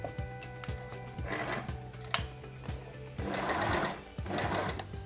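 A sewing machine stitches along the hemline of a man's native trousers with rope, running in short, rhythmic bursts of rapid needle clatter and brief pauses between runs.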